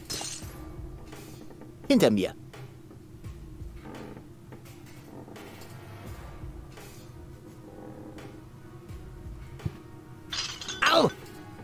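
Glass shards clinking and crunching in the cartoon adventure game Deponia 3, two short bright tinkling bursts separated by several seconds, with someone speaking between them over quiet background music.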